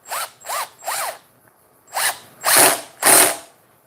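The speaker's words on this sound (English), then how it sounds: "It's a little impact driver, so it gets a little loud." A small impact driver sinks deck screws in loud, close bursts, three quick rattling runs, a pause, then three more, each ending in a sharp hammering chatter.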